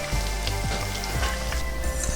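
Onions frying in oil in a pan, a steady close sizzle and crackle with small pops, loud and continuous with no voices.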